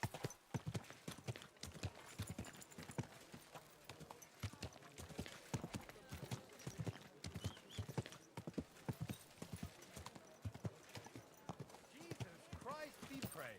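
Horse hooves clip-clop in a brisk, uneven rhythm close by in the video game Kingdom Come: Deliverance II, with a soft voice speaking briefly over the steps.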